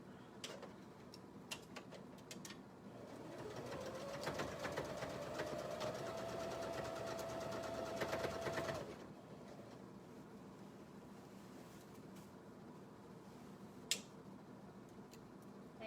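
A sewing machine stitches yoke fabric for a petticoat along a curve, a steady whirring run of about five seconds that speeds up and then stops, with faint clicks around it.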